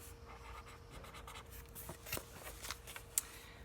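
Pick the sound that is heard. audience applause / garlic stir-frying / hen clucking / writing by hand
writing by hand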